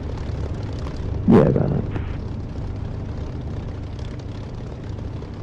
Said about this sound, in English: the hum of my aircraft engine